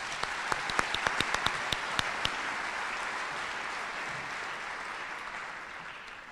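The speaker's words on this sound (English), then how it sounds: "So round of applause, please." Applause at an awards night ceremony, a few sharp distinct claps at first, then a dense, even clapping from the audience that tapers off slightly toward the end.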